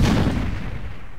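A grenade goes off in a military video game: one loud, heavy boom that rolls off and fades over about a second, with no voices.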